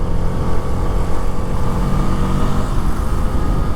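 A Bajaj Freedom 125 CNG motorcycle is ridden while switching over to CNG mid-ride, its engine a steady loud rumble with constant low drone and wind roar close to the rider, no voices.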